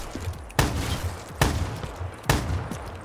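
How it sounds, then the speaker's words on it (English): Shotgun blasts in Black Ops 3 custom zombies on the Bart Simpson's Bedroom map, three loud booming shots spaced about a second apart, each with a sharp broadband crack and a short rumbling tail. "Trying to make some points with the shotgun"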